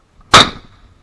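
A single sharp SKS bolt-action rifle shot cracks out at close range, loud and sudden, with a short ringing decay trailing into quiet outdoor air.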